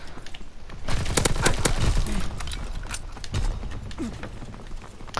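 Rapid submachine gun fire from a PPSh in a WWII video game, short close bursts of clattering shots amid other distant gunfire and battle noise.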